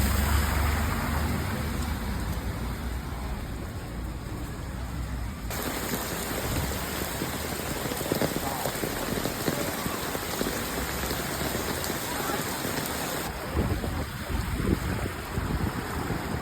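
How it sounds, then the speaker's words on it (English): Heavy rain pours onto the beachfront at Benidorm, Spain, during a storm, a dense and steady patter of drops close by that runs without a break. "Rain in Spain."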